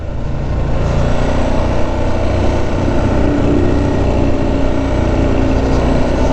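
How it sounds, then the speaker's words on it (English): A 2017 Ducati Diavel motorcycle engine drones steadily and loudly while being ridden, a constant low throaty roar mixed with wind rush and no pauses or talk. "And that deep, throaty Ducati sound."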